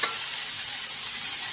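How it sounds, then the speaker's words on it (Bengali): Neem leaves fry in the leftover oil in a wok for a neem and eggplant fry, giving a loud, steady, close sizzle that carries on alone for the whole moment. "বাকি যে তেলটা রয়েছে তার মধ্যে দিয়ে দিলাম নিম পাতা।"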